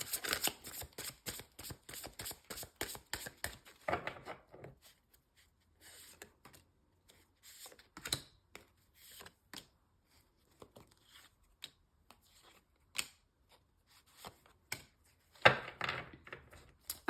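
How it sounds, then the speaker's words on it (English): Tarot cards are shuffled at close range: quick riffling bursts open the passage, followed by quiet, scattered taps and slides of the deck, then another riffle near the end. "2 more shuffles."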